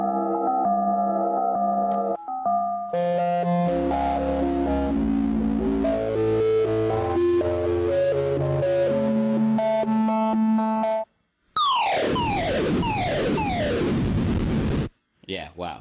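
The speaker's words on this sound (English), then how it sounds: "all of those sounds sounded completely different, and all of them were made on a synthesizer" Synthesizer tones built from two oscillators, first sustained layered chords with shifting pitches, then a burst of repeated sweeping, falling zaps with echo, and a short final blip; no talk.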